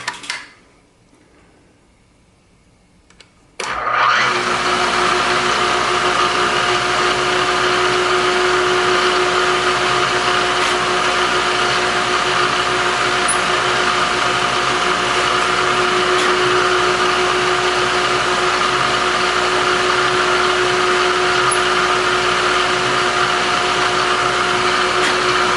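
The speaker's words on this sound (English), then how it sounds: "taking one of these tools, a chamfering tool, and cutting a cone in the end of the tenon." A chamfering tool cutting a cone into the end of a new wooden tenon on a machine that starts with a brief clunk after a quiet moment, then runs as a loud, steady motor drone with a humming tone.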